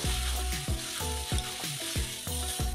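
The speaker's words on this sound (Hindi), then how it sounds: "अब मसाले को अच्छे से होने देंगे।" Spices sizzle loudly and steadily in hot oil in a pan while being stirred, with repeated scraping strokes of a spoon against the pan over a constant frying hiss.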